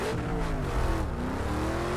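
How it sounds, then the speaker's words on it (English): A powerful race car engine drones steadily in Project Cars 2, its pitch sliding up and down as it accelerates and shifts, loud and close with no talking. "This is definitely a pretty powerful car."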